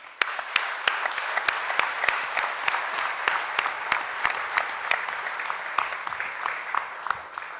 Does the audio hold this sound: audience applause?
yes